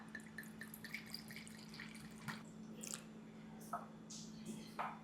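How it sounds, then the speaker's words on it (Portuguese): Bottled sake, 150 ml measured out for homemade mirin, pours with small splashes and drips, scattered wet trickles over a steady low hum, close and fairly quiet. "eu vou separar então 150 ml desse saquê"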